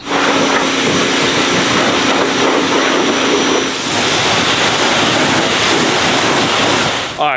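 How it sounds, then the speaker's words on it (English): A hose sprays water over a dusty Can-Am X3 side-by-side, a loud steady hissing rush that holds for about seven seconds and cuts off abruptly at the end. "I'm not gonna do a deep clean, I'm just gonna hose it down, but all right, we're just gonna do a little soak."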